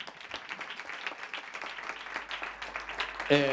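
An audience at an acoustic concert by a band claps in a dense, steady burst of applause that fills the whole moment, with a voice briefly starting up at the very end.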